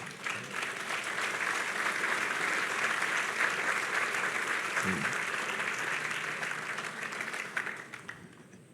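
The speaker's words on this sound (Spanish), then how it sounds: "Dele un aplauso a él." A church congregation applauds in sustained, fairly distant clapping that fills the space, with a brief spoken word partway through before the clapping thins out at the end.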